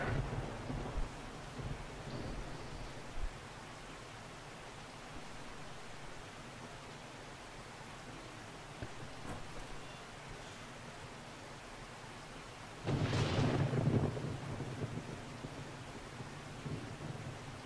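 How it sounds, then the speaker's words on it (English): Rain falls steadily in the survival game 7 Days to Die, a constant hiss, with a loud thunder rumble rolling in near the end. "It's still raining"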